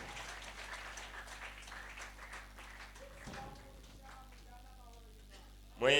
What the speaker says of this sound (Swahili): Tunaomba hivyo tukiamini na tukipigia makofi kwa jina la Yesu